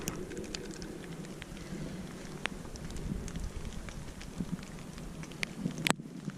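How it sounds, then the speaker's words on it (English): Steady rain falls outdoors at Fort Miles in Lewes, Delaware, a dense continuous patter with a few sharper drops and taps standing out, fairly close and unbroken for several seconds with no talk. "This rain is really nasty."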